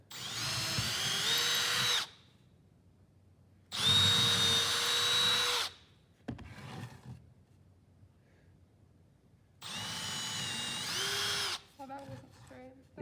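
A power drill boring holes into a wooden bench top, whining in three long steady bursts separated by pauses, with brief speech and handling noise in the gaps.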